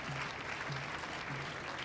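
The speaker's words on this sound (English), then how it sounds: "Thoroughly deserves the applause." A cricket crowd applauds at a Test match between Sri Lanka and Australia, a steady, distant wash of clapping from the stands with a faint low hum underneath throughout.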